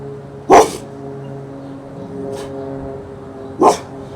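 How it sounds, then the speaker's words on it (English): A dog gives two loud, separate barks a few seconds apart, fairly close, over a low steady background hum. "I hear a dog."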